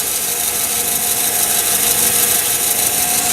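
A pen is sanded by hand with 400 grit sandpaper, a continuous close, bright scratchy rubbing that stays steady and loud throughout with no talk.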